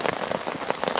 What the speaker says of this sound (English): the rain's coming down really heavy now.